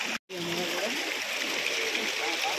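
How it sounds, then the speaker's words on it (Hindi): A waterfall stream on the Yamunotri trek rushes steadily in a broad, continuous roar of flowing water, close and fairly loud, with a brief dropout near the start. "ये झरना बह रहा है"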